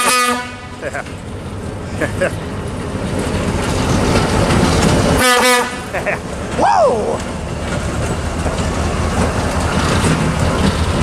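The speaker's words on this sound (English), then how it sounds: "here is switcher number 1006 for Southern Pacific" Southern Pacific switcher locomotive No. 1006 rumbles past at a railway museum in Perris, California, sounding several short horn blasts over steady rolling noise while a nearby voice exclaims.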